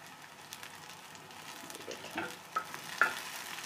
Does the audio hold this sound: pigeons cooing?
no